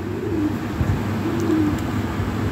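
Toy Lahori Siraji pigeons coo at close range, soft low rolling coos repeating in two drawn-out phrases over a light background murmur.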